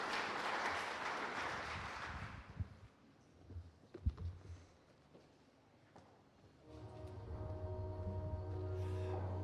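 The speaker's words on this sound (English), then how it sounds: "A beautiful round of applause to the DVC" An audience at a Karatina University national cohesion week event applauds, a dense burst of clapping that fades after a few seconds, followed by scattered sounds and a sustained tonal hum.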